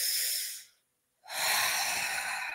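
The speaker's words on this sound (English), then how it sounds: "let's all take a deep breath as we are moving into our day" A long, deep breath drawn in and then slowly released after a short silent pause, close to the microphone and loud, with no talking.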